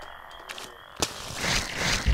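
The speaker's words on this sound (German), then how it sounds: "Was ist mit dem Frosch des Todes da hinter uns?" A frog croaks in a Winx Club video game, a few sharp, close croaks and clicks over a low, rumbling game background, with no talking.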